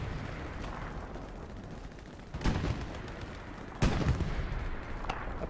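Gunfire in the World War II shooter Hell Let Loose, with a couple of sharp nearby shots standing out over a steady rumble of distant battlefield noise.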